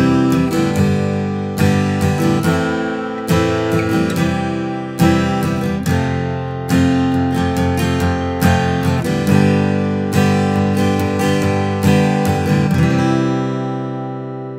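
A Martin D-28 Authentic Madagascar acoustic guitar is strummed in rhythmic chord bursts, bright ringing strings with a full low end, each strum decaying before the next, played alone and close.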